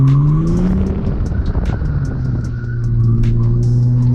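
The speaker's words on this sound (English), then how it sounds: "Might have to skid it." A Ford AU Falcon skids through a tight corner on a mountain road, its tyres squealing loudly under a droning engine heard from inside the car.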